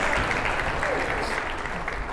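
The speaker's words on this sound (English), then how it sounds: "if we could all give a round of applause for Justin here" An audience at a talk on bystander intervention gives a short round of applause for a helper, with brisk, even clapping and a voice faintly underneath.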